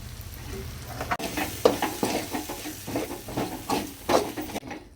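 Chili powder, coriander powder and garam masala sautéing in oil for a meal maker (soya chunk) gravy, a steady close sizzle with repeated scraping stirs of a spoon against the pan.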